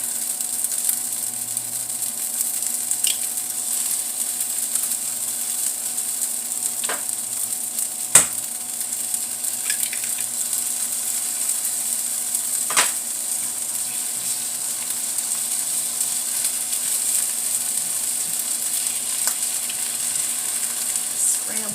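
Eggs scrambled in a frying pan with soy sauce and seasoning, a soft steady sizzle throughout broken by a few faint utensil taps and scrapes, with no talk.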